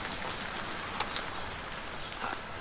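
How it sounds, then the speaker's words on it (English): Steady rain hissing across the whole clip in Oshkosh, a Midwestern town, a broad even wash of noise with a few faint drip-like clicks, no voices. "It's raining, been raining"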